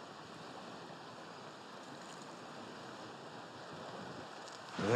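Sea waves at night, a steady broad wash of surf with wind noise, constant and even throughout, with a brief louder rise at the very end and no voices.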